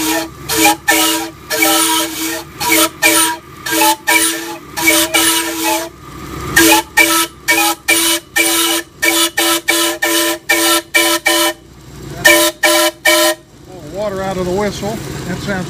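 A three-truck Shay steam locomotive runs on a stand, its rapid rhythmic chuffing loud and close, broken by bursts of whistle, ending in hissing steam.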